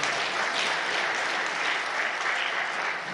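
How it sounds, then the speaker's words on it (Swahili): Dense, steady applause from a large audience fills the hall at a presidential book launch for a book on women judges at State House in Tanzania, loud and continuous throughout. "tushangilie tena kwa makofi mengi"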